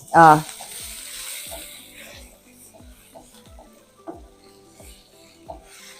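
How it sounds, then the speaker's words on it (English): Mushrooms sautéing in a hot pan with a steady sizzle, a loud scrape at the start and then regular stirring scrapes about every half second, close and clear with no talk. "The mushrooms really don't take long to saute."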